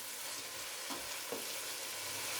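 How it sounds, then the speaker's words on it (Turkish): Steady, loud sizzling of peppers frying in hot oil, with a couple of brief scraping stirs of a utensil in the pan. "Kızartma kokusu gelene kadar karıştıracağız."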